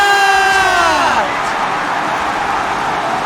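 Loud crowd cheering and whooping at an esports watch party for a Valorant Challengers match, a dense roar with rising and falling voices filling the whole moment.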